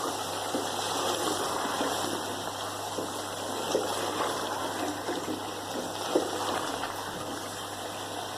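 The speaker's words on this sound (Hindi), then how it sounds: "अब यहाँ मैं ऐड कर दूँगी 2 गिलास पानी" Steady rushing of two glasses of water pouring into a pot of browned potatoes and meat, a continuous gushing wash with a couple of faint clinks, no voices.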